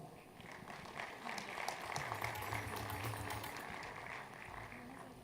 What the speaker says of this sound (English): We all can applaud for this.